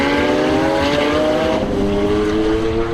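A 2012 Lamborghini Aventador LP 700-4 accelerates hard on the Vallelunga circuit, its loud, close engine climbing in pitch before a gear change about halfway, then pulling upward again.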